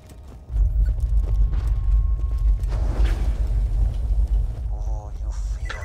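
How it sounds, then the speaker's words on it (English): Drill boring toward a vault in the video game Borderlands 2: a heavy, continuous low mechanical rumble and grinding drone with some metallic clanks, loud and sustained throughout. "My drill's getting closer and closer to the vault."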